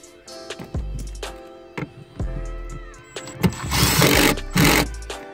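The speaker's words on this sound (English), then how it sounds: "now we're gonna drive them in" Power driver running screws into a driver's seat bolt area of a 2014 Hyundai Sonata, several short whirring bursts separated by pauses, close and moderately loud, with a longer, louder run near the end.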